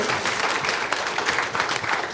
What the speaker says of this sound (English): One more round of applause for our panelists, please.